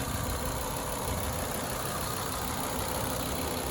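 The inline five-cylinder engine of a 1996 Acura 2.5TL idles steadily and close by, giving an even, continuous mechanical hum with no break.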